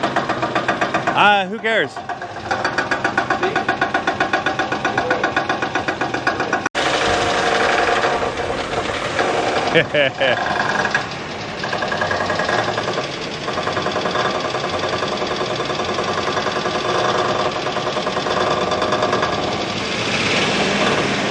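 A Ford F-150 engine runs rough with a steady knock from a failing connecting rod, loud and continuous under brief talk, with a sharp jolt partway through.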